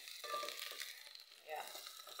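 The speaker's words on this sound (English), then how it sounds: "My onion is cooking well." Onions frying in a pan for an African dinner, a steady soft sizzle with light crackle that swells briefly near the end.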